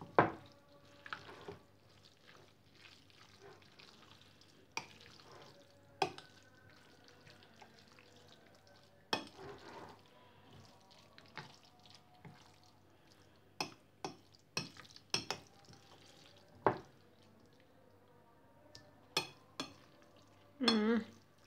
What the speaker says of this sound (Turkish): Şöyle karıştırıyorum.